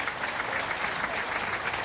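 Steady applause from the head of state and the official stand at a military parade on the Champs-Élysées in rain, a continuous even wash of many hands clapping at moderate distance with no breaks.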